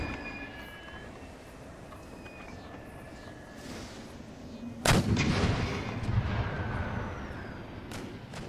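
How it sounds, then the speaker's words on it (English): Howitzer artillery in a World War I mod for Napoleon: Total War, with a low battlefield rumble and then one loud, sharp cannon blast that echoes and rolls away, followed by more distant booms. "Here's my howitzers."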